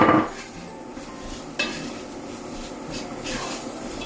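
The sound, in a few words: stirring potato and carrot into the soup pot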